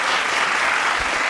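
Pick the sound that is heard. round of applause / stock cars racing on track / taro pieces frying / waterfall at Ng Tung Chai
round of applause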